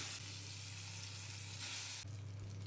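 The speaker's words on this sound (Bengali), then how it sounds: "তেলটা খুব ভালো মতো গরম হয়ে গেলে এক এক করে মাছের পিসগুলো দিয়ে দিচ্ছি" Steady, loud sizzling of fish pieces frying in hot mustard oil, a continuous crackling hiss close up with no voices.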